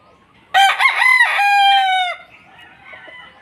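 A Pumpkin Hatch rooster gives one loud, close crow, a long drawn-out call of about a second and a half, then faint clucking and rustling from hens trails off afterward.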